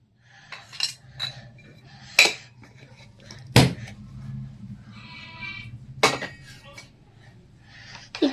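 Bread omelette egg batter mixed in a bowl with chicken masala, a utensil clinking and scraping against the bowl in irregular strokes, close by, with a few sharper knocks and a low background hum.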